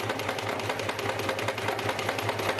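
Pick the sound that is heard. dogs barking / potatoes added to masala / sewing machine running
sewing machine running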